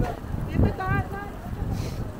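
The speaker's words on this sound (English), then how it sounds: "Here comes the wind. In our faces." Gusty wind buffets the microphone on an outdoor city walk in downtown Toronto, a low rumbling roar that swells and fades, while someone talks over it.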